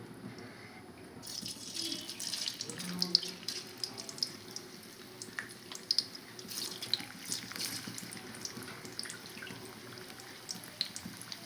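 French fries frying in a pan of hot oil, a steady close bubbling hiss with scattered pops and crackles that continues for the whole stretch, no voices over it.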